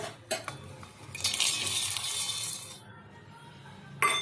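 Peanuts are poured into a mixer jar, a short clatter of small hard pieces striking the container with a couple of sharp clinks before and after, quiet and close.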